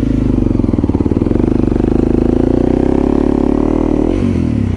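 A dual sport motorcycle engine revs hard as its rear tire spins on a tree stump, giving a loud, close, pulsing drone that holds steady and then drops off with a scrape near the end.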